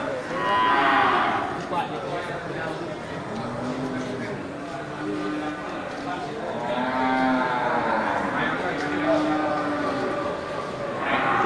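Limousin cattle moo repeatedly, several long low calls in succession, fairly close, with background murmur and farm noise.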